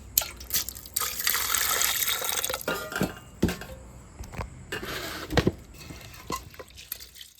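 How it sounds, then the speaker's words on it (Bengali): Rice being washed by hand in water in a pot in a village kitchen, with sloshing, stirring water and grains rubbing, plus a few sharp knocks against the vessel; close up with no talking. "চালের মধ্যে একটু ভালো করে ধুইতে হবে চালটা"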